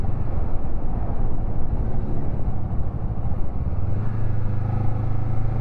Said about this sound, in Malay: Saya bawa motor CBR